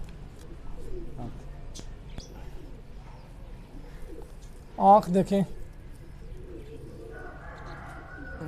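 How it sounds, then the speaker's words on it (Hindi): Sialkoti breed pigeons coo in a short, close burst of throaty notes, heard amid a man's speech and background chatter. "उनके माशाल्लाह बड़े प्यार वाले कबूतर हैं ये"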